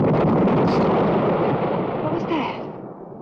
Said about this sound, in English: Mine explosion!